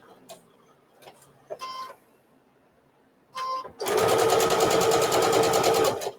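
A sewing machine stitches through a fabric bowl mitt, starting with a few short, hesitant bursts and then running in a loud, steady, continuous whir for about two seconds.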